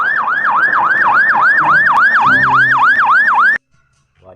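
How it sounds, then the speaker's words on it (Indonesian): Fire truck siren wailing in a fast, steady up-and-down yelp, loud and close, cutting off abruptly near the end. "kalau yang ini mobil tangki teman-teman, pemadam kebakaran"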